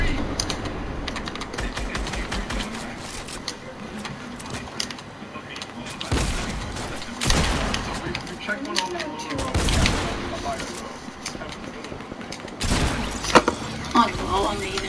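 Gunfire in the video game Fortnite: several sharp loud bursts break through constant keyboard clatter, with occasional talking over the top.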